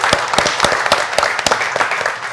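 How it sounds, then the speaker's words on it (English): Brief, sparse hand clapping from a small group at an informal talk, a few distinct claps standing out against the soft, dense patter. "Let's give applause to Trophy."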